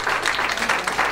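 Applause for poet Vijay Bagadi at a book launch ceremony, a steady patter of clapping from a seated audience lasting about a second, even and fairly loud with no voices over it.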